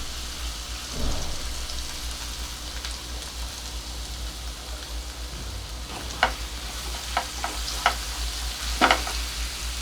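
Ingredients for Mumbai masala sandwich filling, including ginger, are sautéed in a pan. There is a constant close sizzle with a few sharp clicks of stirring, and no talking.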